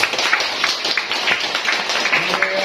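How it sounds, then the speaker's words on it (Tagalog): An audience claps continuously through a crowded hall, a dense steady patter of many hands at moderate loudness with no pauses. "Pumalakpak na lang po kayo."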